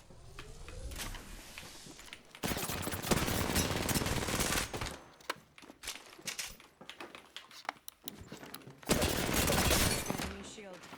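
In the video game Apex Legends, bursts of rapid gunfire crackle in dense, loud clusters, stopping and starting, along with sharper single shots and game sound effects, with a voice speaking at times.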